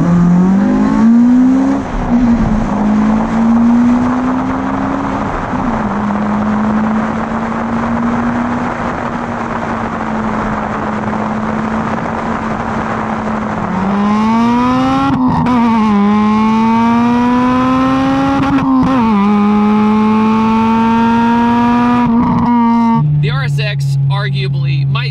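An Acura Integra fitted with a K20A engine runs loud and close, its steady drone climbing through several sharp revs and falling back, with a person talking over it.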